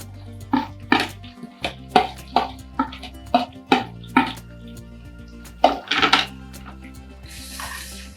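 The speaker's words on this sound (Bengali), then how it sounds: "এবারে আমি পেঁয়াজগুলো দিয়ে দিচ্ছি" Fried onions tipped into a pot of oil and ghee for mutton masala, giving a run of clattering scrapes and thuds spaced through the clip over a steady low hum, ending in a soft sizzle.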